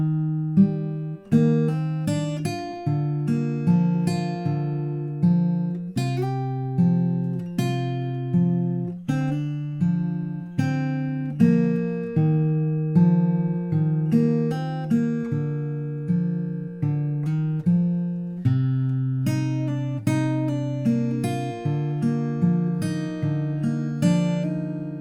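An acoustic guitar is fingerpicked through the opening pattern of a song, with steady rolling arpeggios of plucked notes under clear chord changes, close and clean with no talking.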